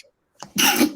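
A single sneeze bursts out at close range, a brief intake followed by a sharp, loud, breathy explosion that ends abruptly.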